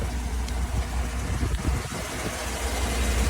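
A 2012 Chevrolet Avalanche engine idles steadily, heard from underneath the truck as a constant, even rumble with no revving or talk.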